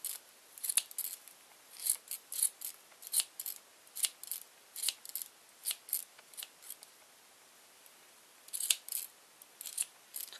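Scissors snip repeatedly while trimming a round yarn pom-pom for a bookmark, crisp close metallic cuts in irregular bursts with brief pauses, no voices.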